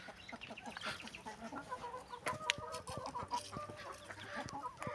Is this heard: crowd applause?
no